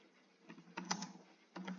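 Computer keyboard typing text into a text field in PDF viewer software: a few quiet, close key clicks in two short bursts, no talking.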